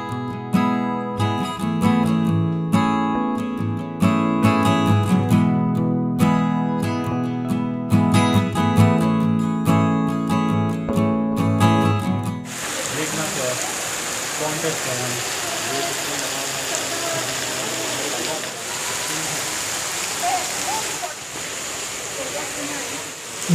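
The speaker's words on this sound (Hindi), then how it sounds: "जो सामने से छतरे में से पानी नीचे गिर रहा है, अगर आप आंख बंद करके उसको सुनोगे आपको ऐसा लगेगा जैसे बारिश हो" Water pours from a canopy-topped fountain at Saheliyon ki Bari garden in Udaipur, fed from Fateh Sagar lake, with a steady rain-like hiss that takes over midway after a stretch of music.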